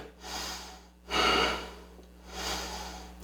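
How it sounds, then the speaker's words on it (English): Breathing during a yoga pose, three slow, audible breaths through the nose, close and fairly loud with no talk. "Remember to breathe."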